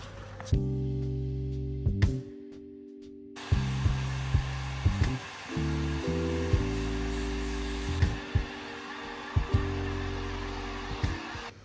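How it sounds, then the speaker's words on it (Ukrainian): A hair dryer heating plastic film roars continuously, its motor hum shifting in pitch as it is switched or moved, loud and close throughout. "Я зараз прогріла плівку фену"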